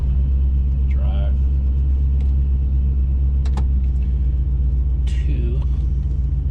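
A 1994 Ford car's engine idles with a steady, loud low rumble while the transmission is shifted through its gears, with faint clicks and brief muffled voice-like sounds over the drone.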